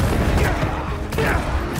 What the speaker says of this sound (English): I got my own bloody personal turret over here.